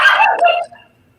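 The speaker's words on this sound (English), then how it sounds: "The dog is not mine." A dog barks close by, a burst of two quick overlapping barks that trails off into silence, heard alone during a relaxed online book chat.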